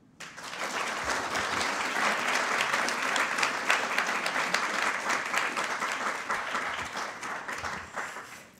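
Sustained audience applause at an evening hall of distinction induction ceremony, a dense steady wash of many hands clapping that fills the room for several seconds before easing off slightly at the end.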